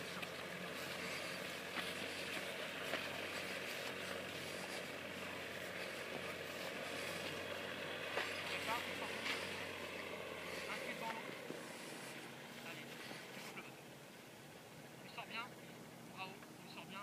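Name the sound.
paramotor engine running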